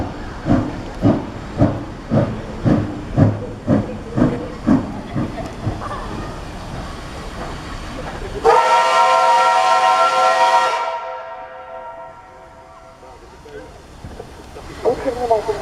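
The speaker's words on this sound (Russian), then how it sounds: "На первый путь прибывает ретро-поезд на паровозной тяге." A retro steam locomotive train pulls into the first track at Arkhangelsk station: rhythmic chuffing beats for several seconds, then a loud sustained hiss of steam release that fades away.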